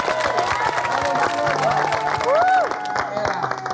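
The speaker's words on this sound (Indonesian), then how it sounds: "Bagus, tepuk tangannya semangat." Audience clapping at a talk-show style event in Indonesia, sustained and fairly lively, mixed with music tones and a bit of crowd noise.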